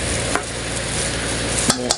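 Pork croquette mixture being mixed with granules in a bowl, a close, steady squelching and scraping stir with a few sharper knocks of the utensil, no talking.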